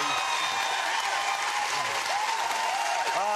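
A studio audience on a TV chat show applauds to welcome a band, steady dense clapping sustained throughout at full volume, with faint whoops above it.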